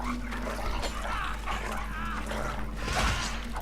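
A dog barks and whimpers in a Game of Thrones video game, its yelps rising over a constant low game hum and background noise, with a louder burst near the end.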